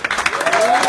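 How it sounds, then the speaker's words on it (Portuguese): An audience at a lecture in Oizumi, Japan, breaks into applause, a brief burst of clapping, with a voice's tone rising faintly underneath. "Então receba com uma salva de palmas."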